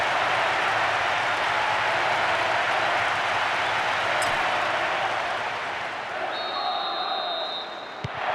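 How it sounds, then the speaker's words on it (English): A capacity stadium crowd in PES 2010 roars in a dense, unbroken wall of cheering, with a brief whistle and a sharp knock near the end. "The capacity crowd getting behind their team."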